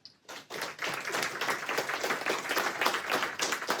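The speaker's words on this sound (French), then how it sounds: "Applaudissons." Audience applause at an entrepreneurship networking event: dense clapping from a crowd begins after a brief quiet moment and carries on steadily, fairly loud and close, with no talk over it.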